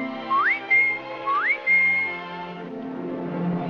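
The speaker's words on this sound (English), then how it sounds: "It whistles it all day long." A person whistles a tune, two quick upward-gliding notes that each settle into a held pitch, clear and close over a soft sustained musical backing.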